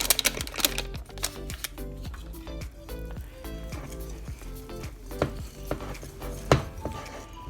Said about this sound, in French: vous mélangez jusqu'à ce que le mélange soit bien lisse